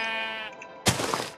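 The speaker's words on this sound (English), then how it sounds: "that's just the sheep eating grass" A sheep in a Minecraft-style survival game bleats once in a clear, wavering tone, then a rough grass-munching crunch follows, close and loud with no talk over it.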